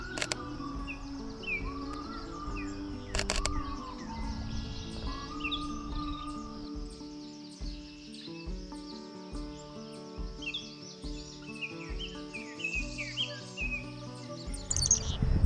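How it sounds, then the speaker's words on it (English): A chickadee chirps in spring flowers outdoors, repeated short high calls scattered across the stretch amid other birdsong and insect trilling, with no talking. "I hear some chickadee chirping right up in the flowers there."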